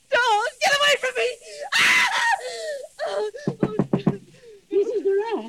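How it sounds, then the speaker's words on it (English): A woman cries out and screams in distress in an old radio suspense drama, her high wailing voice in several bursts, with a knocking at a door in the middle. "Why were you screaming?"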